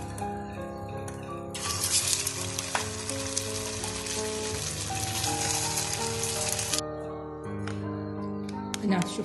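Iraqi kubba halab sizzles and crackles steadily in hot frying oil, a dense, close frying hiss that swells and persists, with a voice talking over it.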